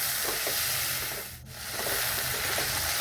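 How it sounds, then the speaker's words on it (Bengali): Chicken pieces with onion lightly frying in a pan, a dense continuous sizzle and hiss that dips briefly midway, then swells again, close and fairly loud. "চিকেনটাকে হালকা একটু ভেজে নিয়ে"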